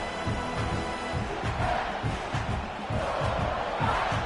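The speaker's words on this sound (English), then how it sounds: "this crowd trying to help keep them there" A stadium crowd in a college football video game, a loud continuous roar with swelling cheers and shouts as the home fans try to keep the opposing offense pinned deep in its own end.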